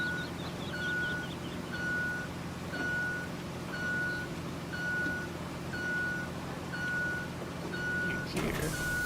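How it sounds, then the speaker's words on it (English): A dump truck in the game RoadCraft sounds a steady, evenly spaced reversing beep, about one per second, over a constant low engine rumble, with a brief clunk at the end. "That dump truck does hold a lot of dirt."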